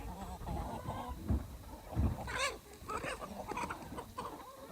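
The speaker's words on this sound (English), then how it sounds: "They have hundreds of chickens that needed feeding" Hundreds of chickens on a Hawaiian permaculture farm cluck and squawk together in a busy, continuous chorus, with a few louder calls close by standing out over the flock.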